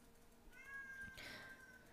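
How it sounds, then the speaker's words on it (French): A domestic cat gives two drawn-out meows in quick succession, the second rising louder and harsher, heard close and fairly faint against a quiet indoor room. "le chat a encore décidé de miauler comme si c'était la fin du monde"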